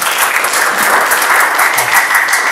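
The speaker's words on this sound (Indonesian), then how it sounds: "Tepuk tangan dulu buat Mas Ibnu." Steady applause from an audience at a university teaching-certification presentation, a dense continuous clatter of clapping hands filling the whole stretch, fairly close and even in loudness.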